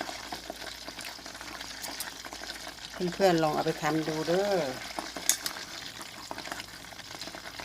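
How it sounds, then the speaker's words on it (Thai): Pork belly fries slowly in oil over low heat for crispy pork, a steady soft sizzle and bubbling throughout while someone speaks over it midway. "ทอดไฟแบบนี้ค่ะอ่อน ๆใจเย็นๆไปเรื่อยๆค่ะ"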